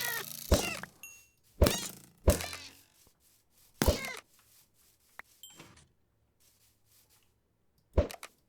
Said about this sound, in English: So that's why there was a lot of cats out here all of a sudden.